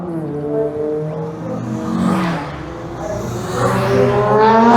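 A Honda VTEC-engined car revs at Goodwood Motor Circuit during a retro car weekend, loud engine notes climbing and falling through several gear-like sweeps, building louder toward the end.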